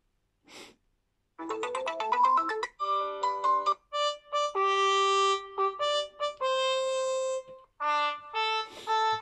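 A ringtone melody plays loudly from the speaker of a Smartisan U3 Pro phone, a bright electronic tune of sustained tones and quick note runs after a short opening blip, with no voices.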